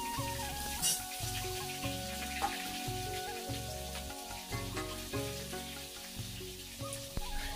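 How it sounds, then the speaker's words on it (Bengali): Potato pieces frying in oil with salt in a home kitchen pan, a continuous crackling sizzle with scattered pops and occasional stirring clatter, close and fairly loud, with no talking over it. "শুধু নুন দিয়ে একটু ভালো করে আলুটা ভেজে নেবো"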